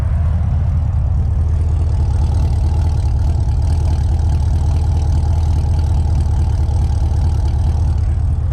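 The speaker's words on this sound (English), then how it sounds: "It's idling really smooth." A Camaro SS R IMSA race car engine idles smoothly and steadily with a deep, even rumble, loud and close, with no talking.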